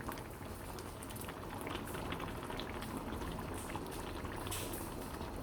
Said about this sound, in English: So now I'm going to add 1 cup of coconut cream.